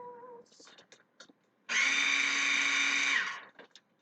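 A food processor whirs loudly and steadily for about a second and a half, blending cocoa powder into scratch chocolate, with brief talk before and clatter after.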